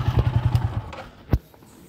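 A Yamaha R15 V4 motorcycle fitted with a custom lowering kit, its rear shock absorber compressing under bouncing weight, a quick run of soft rhythmic thumps followed by one sharper clunk, close by.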